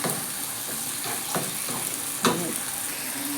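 Food sautés lightly in a pan, a steady sizzle with a few soft clacks of stirring, no one talking over it.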